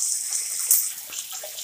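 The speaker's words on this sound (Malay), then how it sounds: "Memang laju air dah" Water rushes fast from a sink tap with its filter removed, a steady bright hiss of flowing water, close and fairly loud, running alone throughout.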